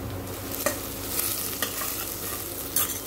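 Spices tempering in hot oil in a home kitchen pot for porridge give a soft, steady sizzle, broken by a few sharp crackles and spoon clicks as they are stirred.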